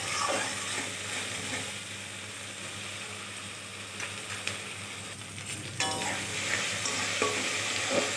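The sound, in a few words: stirring and frying spice masala with salt and turmeric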